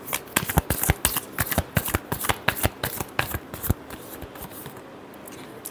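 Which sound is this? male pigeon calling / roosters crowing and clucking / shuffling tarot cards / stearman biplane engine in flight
shuffling tarot cards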